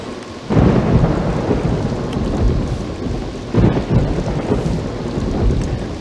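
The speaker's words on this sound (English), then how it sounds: "The weather at this park is not that great. It seems to rain a lot." Inside the theme-park game Roller Coaster Tycoon 3, a steady hiss of heavy rain is broken by two loud rumbling thunderclaps a few seconds apart, each swelling and rolling off into the downpour.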